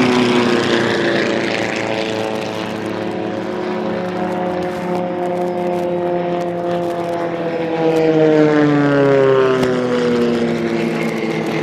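Propeller aircraft race past at an air race in Thailand, a loud droning engine roar with pitch sliding as planes pass, sustained and nearby with no voices.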